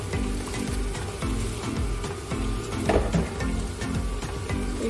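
Soaked rice tipped into a pot of fish biryani and stirred, steady loud sizzling and frying with scraping, clattering stir strokes throughout.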